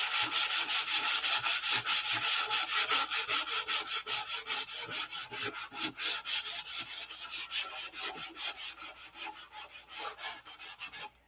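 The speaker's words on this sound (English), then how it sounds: "You guys really like these sanding videos?" Rapid back-and-forth rasping of sandpaper on a wooden P-47 model aircraft, a steady rhythmic scrubbing that continues throughout, close and moderately loud.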